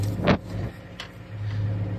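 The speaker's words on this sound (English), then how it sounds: "As soon as I put it in gear and drive, it's like dragging." Steady low engine hum from a worn farm vehicle driving in gear with a dragging, stuck brake, the drone dipping briefly mid-clip before resuming, with a short thump near the start.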